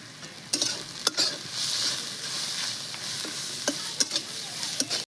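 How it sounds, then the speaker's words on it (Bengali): Onions fry lightly in a pan with cumin powder, Kashmiri chili powder, black pepper and salt for paneer 65. A steady hissing sizzle runs close by, broken by repeated scraping strokes of a spatula stirring the pan. "পেঁয়াজ পুরো ভাজে একদম পুড়ায় ফেলাবেন না, এরকম হালকা ভাজা থাকবে"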